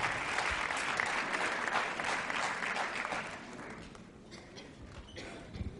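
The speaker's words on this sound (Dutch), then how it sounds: "uw applaus voor Gina van Hekken." An audience at a fashion awards gala applauds loudly and steadily for several seconds, the clapping then thinning and fading toward the end.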